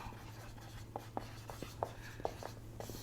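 Marker writing on a board during a biology lesson on genetics: faint squeaky strokes and taps in an irregular rhythm over a low steady hum, with no talking.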